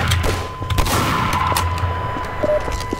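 Shotgun fire in Garry's Mod comes as a dense run of loud, sharp blasts, several shots in close succession over a constant background hum.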